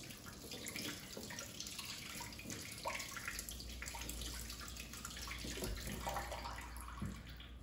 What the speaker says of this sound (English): And I'm going to wash this cucumber that we're using.